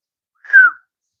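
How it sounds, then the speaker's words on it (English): A person gives a single short clear whistle, a brief slightly falling tone, close and alone in silence. "I'm gonna make a whistle sound."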